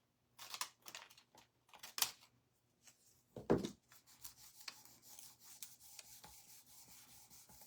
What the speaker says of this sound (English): Just gonna rub that all down.